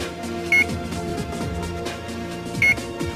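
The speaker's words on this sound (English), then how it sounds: "When powered on both sites, the ODU will start beeping according to the antenna alignment status." A RADWIN 2000 series ODU antenna unit gives short electronic alignment beeps: two brief tones about two seconds apart over a steady low background hum.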